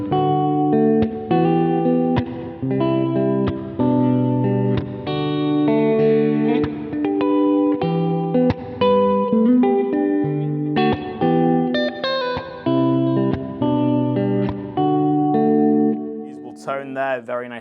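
A Mayones electric guitar plays a clean tone with the middle pickup position in humbucker mode, picking clear ringing chords and single notes in a steady phrase that lasts throughout and ends on a brief final strum.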